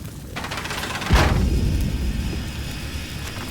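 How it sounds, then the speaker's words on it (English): Steam engine firing up in Amnesia: A Machine for Pigs, a deep rumbling roar that swells with a sharp low thud and then rolls on as a heavy, continuous vibrating drone. "The engine fires, the flames stoke, steam vibrations upon the very air."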